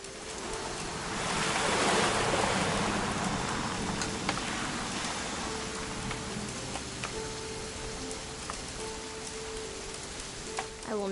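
Steady rain in the video game What Remains of Edith Finch falls and patters on surfaces, a constant hiss that swells briefly early on, with occasional light drips and soft tones in the background.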